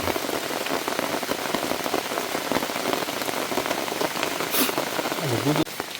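Heavy rain pours steadily onto a mountain forest camp in a dense, constant hiss of drops striking surfaces nearby, with a brief voice and a few faint sounds rising over the downpour near the end.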